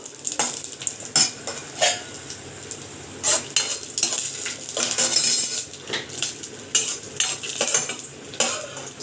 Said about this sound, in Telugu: కిస్మిస్లు కూడా వేసుకొని నీట్గా ఫ్రై చేసేసుకోవాలి